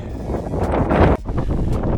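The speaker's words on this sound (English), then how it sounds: "It's windy." Gusty wind buffets the microphone on an exposed mountain ridge below Pamola Peak on Mount Katahdin, a loud, rumbling roar with swelling gusts and brief dips, and no voices.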